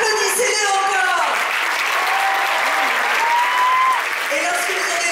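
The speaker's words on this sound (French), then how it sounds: "Applaudissez-les encore." Sustained audience applause fills a cinema at the Dumbo film premiere, a continuous loud wash with a person speaking over it.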